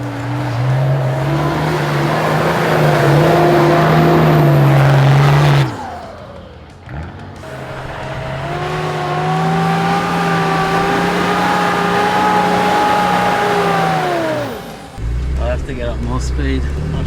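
A Nissan GQ Patrol four-wheel drive on sandy coastal tracks revs hard in gear, drops away during a gear change, then climbs again with a loud rising engine drone, while people talk inside the cab.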